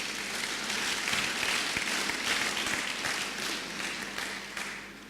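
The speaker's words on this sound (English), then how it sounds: "Give the Lord a clap offering." A church congregation claps together during a sermon, a loud dense burst of many hands that swells early and then tapers off toward the end.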